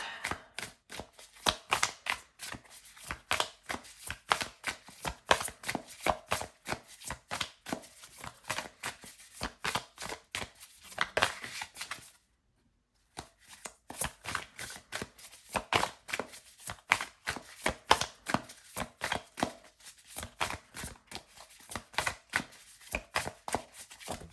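Tarot cards being handled and shuffled give a dense run of quick papery flicks and riffles, steady and close, with a brief pause midway before the shuffling resumes.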